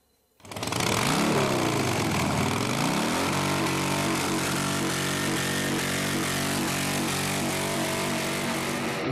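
Motorcycle engines at a rally of about three thousand bikers on Taras Hill, Ukraine: a loud, steady roar starts abruptly and holds, with revving that rises and settles into a throbbing idle, close by.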